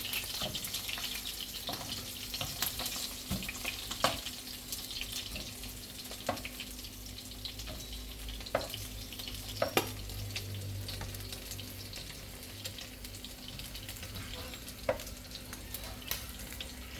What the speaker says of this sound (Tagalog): Ganda ng pagka-prito.